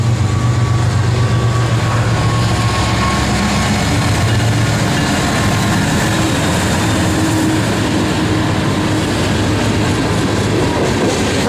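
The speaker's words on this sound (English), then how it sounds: "and what do you know, a train's going by." A freight train rolls past a Minneapolis train station in winter, a loud, steady rumble and rail clatter that fills the whole stretch without letup, no voices over it.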